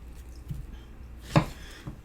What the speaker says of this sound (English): just cut those strawberries into quarters